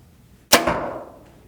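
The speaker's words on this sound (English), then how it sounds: "you're hearing the smack of the arrow over the bow going off for sure" A compound bow is fired and the arrow strikes a target with one loud, sharp smack, leaving a short fading ring in otherwise quiet surroundings.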